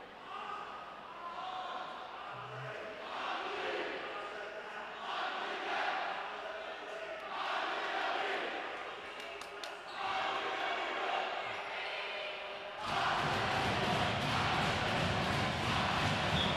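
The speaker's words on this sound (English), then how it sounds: "you can probably hear it. Football players in the wings cheering on their Lancers." Football players on the sidelines cheer at a varsity high school volleyball match in a gym, steady crowd shouting with ball thumps and squeaks, swelling louder near the end, with an announcer talking over it.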